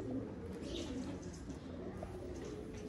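Caged pigeons coo continuously in a dense, low murmur, a flock of paired birds kept together in an enclosure, steady and moderately close with no talk over it.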